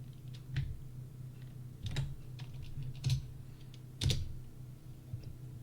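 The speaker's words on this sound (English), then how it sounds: "Now type in the command line DYNPICOORDS" Typing a command on a computer keyboard in AutoCAD, a sparse series of separate key clicks over a low hum, with louder distinct taps every second or so and no talking.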